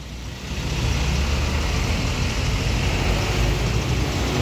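A Dieng Indah intercity bus passing on the road on a busy holiday evening, a broad rumbling engine and tyre roar that swells in the first second and stays loud and close throughout, with no talk.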